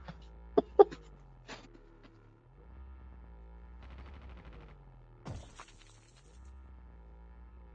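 Gunfire in the Call of Duty Mobile video game, a few sharp shots early on with later bursts, fairly distant and moderate over a steady low engine-like hum.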